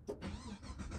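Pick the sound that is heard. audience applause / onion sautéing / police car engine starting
police car engine starting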